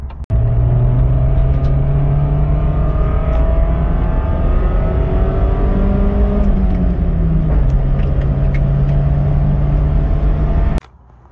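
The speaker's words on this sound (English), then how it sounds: "There's a misfire." A 1991 Honda Civic wagon with a misfire and a suspected blown head gasket idles loud and close, its engine note steady but slightly uneven, running alone for about ten seconds before cutting off.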